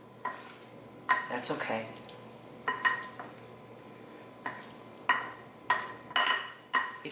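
A Greek salad with feta and a garlicky dressing gets mixed in a bowl, giving intermittent clinks and scraping stirs in short bursts, close by, with a brief spoken remark.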